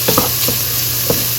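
Half an onion and a pound of ground beef frying in a pan, a steady close sizzle with a few soft stirring scrapes over it, no talking.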